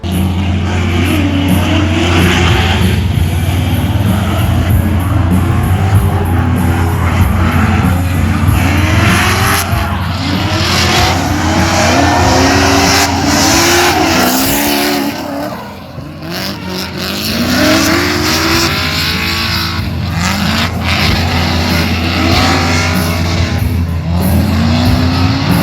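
Mazda Miata race car on a track, engine revving hard through repeated up-and-down acceleration sweeps with brief tire squeal, loud and close throughout with a short dip around the middle.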